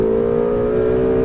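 A Ferrari 488 GTB engine pulls hard under acceleration, a loud, close, steady harmonic roar with a slowly rising pitch throughout the brief burst.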